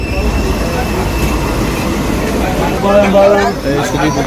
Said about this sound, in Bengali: বর্ধমান স্টেশন থেকে আসানসোল যাচ্ছি এই ট্রেনটাতে এই যে এই ট্রেনটাতে যাচ্ছি আর ট্রেনটা অনেক পুরনো অনেক আগেকার ট্রেন এটা